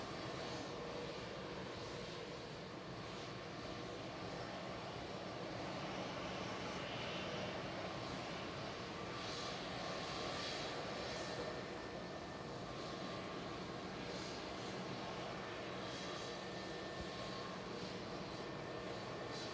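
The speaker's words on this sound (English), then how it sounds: "we've got an easyJet A321 lined up to go next" An easyJet Airbus A321neo bound for Lisbon taking off from Manchester Airport, its jet engines giving a loud, continuous broad roar across the whole stretch, heard from nearby with no talking.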